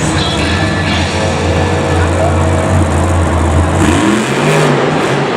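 A monster truck engine at Monster Jam Singapore 2017 roars continuously and loudly, holding a steady drone before a rising rev sweeps up near the end.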